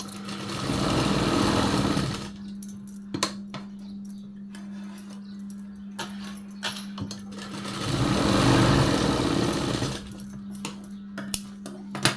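A sewing machine stitches a tuck on a blouse in two close, fast whirring bursts at the start and again later, with quiet handling clicks and rustles of fabric between runs.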